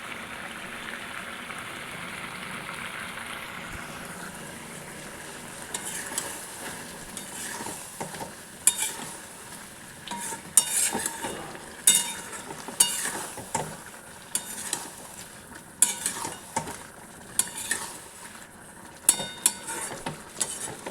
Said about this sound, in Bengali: মশলাটা ভালো করে ভাজতে হবে